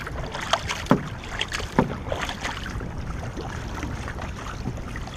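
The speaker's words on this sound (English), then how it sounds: "Fanning means your paddle is going, it has about 6 inches in the air before it gets in." A marathon racing canoe is paddled with a fanning stroke, each blade entry making a soft splash in an uneven rhythm over steady water rush and wind noise on the microphone, close and with no talking.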